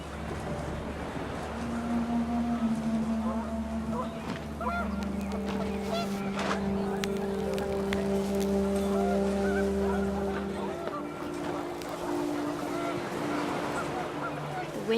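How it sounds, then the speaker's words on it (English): Panicked geese honk in the game What Remains of Edith Finch, with repeated overlapping calls rising over a steady low rush of wind that continues throughout. "The wind picked up, and panicked geese appeared and quickly went."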